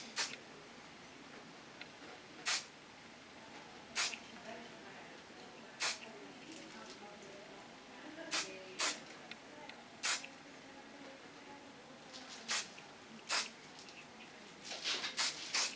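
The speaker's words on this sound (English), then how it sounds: "Use a very hard hairspray of Lanza, all 10" Very hard Lanza hairspray hisses from a can in a dozen short, sharp bursts, spaced irregularly and close to the microphone, with quiet room noise in between.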